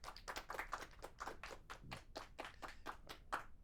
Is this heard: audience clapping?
yes